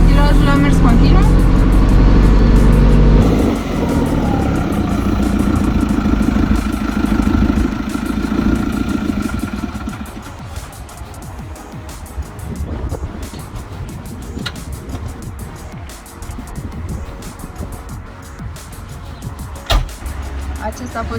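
A JCB 3CX backhoe loader drives through a turn without changing gear, its engine a heavy, steady rumble that is loudest at first, then settles under lighter mechanical clatter and rattles throughout.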